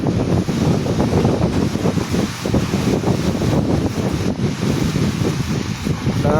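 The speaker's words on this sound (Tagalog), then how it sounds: "Lakas ng hangin, grabe." Loud, roaring gusts of typhoon wind buffet the microphone continuously, a dense low rumble with surging bursts and no pauses, like a storm blowing hard close by.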